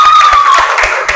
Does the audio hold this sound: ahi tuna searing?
no